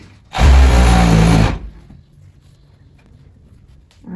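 A sewing machine stitches a sweatpants waistband in one loud, close burst of rapid whirring that runs for about a second, then stops and leaves only faint handling noise.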